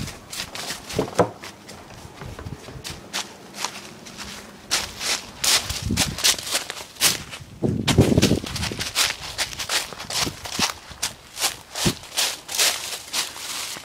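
A Gamo PT-80 air pistol fires in quick succession, a rapid string of sharp, close cracks with mechanical clicks and handling noise between the shots.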